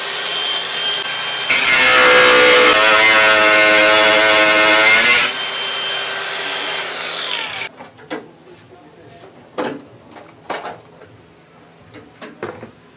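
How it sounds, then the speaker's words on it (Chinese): An electric cutting machine grinds through a rusted-solid air conditioner mounting screw, a loud, steady high-pitched shriek lasting several seconds, followed by quieter clanks and knocks as the work continues. "这个螺丝的话生锈死了，拆不掉，也没办法，我只能上切割机"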